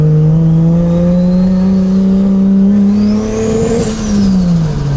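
Widebody Toyota Supra engine held at part throttle, a loud close steady drone that rises slightly in pitch, then dips and recovers near the end, with no talking over it.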